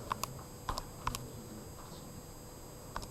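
A handful of sparse, soft clicks from keys pressed on a calculator keypad, close but faint, arriving in small pairs with pauses between and no talking over them.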